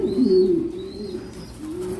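Racing pigeons at a farm coo steadily nearby, a low rolling murmur in several swells with a few faint higher chirps over it, and no one speaking.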